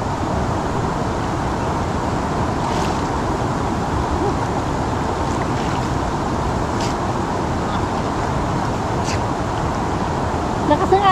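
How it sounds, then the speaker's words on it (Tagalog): A strong river current rushes at Bayabas Dam in Bulacan, Philippines, as a loud, unbroken broadband roar that holds steady from start to finish. "Ang lakas ng agos."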